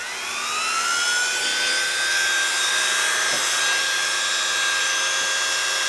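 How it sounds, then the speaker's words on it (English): Power tool fitted with a brand new cutting wheel cuts through metal during a hit and miss engine restoration, a loud steady whine with rising high tones that holds for the whole stretch, with no talking. "I gave you a brand new cutting wheel on here."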